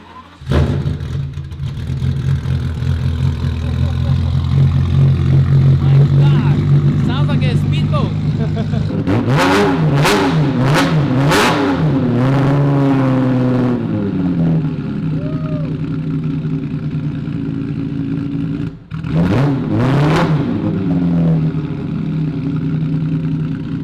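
A Ferrari F40 engine, a little crackly when cold, idles with a low drone and then revs sharply several times in quick bursts, close and loud, with people talking over it.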